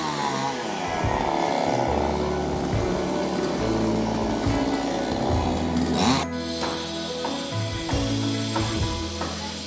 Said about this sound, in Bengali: তাই পাশের এই বটগাছটার কয়েকটা ডাল কেটে দেওয়ার কাজ চলছে।